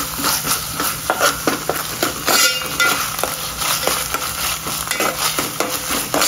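Ginger garlic paste fries in a pan while a utensil stirs it with rapid, close scraping and clinking over a steady background sizzle.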